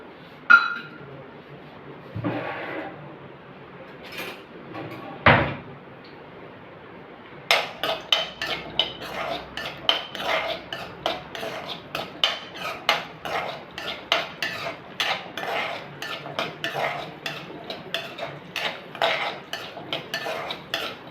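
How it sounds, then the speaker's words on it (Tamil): Onions sautéed in oil in a pan for a no-coconut idli and dosa chutney, with a dense run of quick metal spoon scrapes and clinks against the pan, steady and close, after a few scattered knocks early on. "வெங்காயம் லைட்டாக வதங்கிடுச்சு."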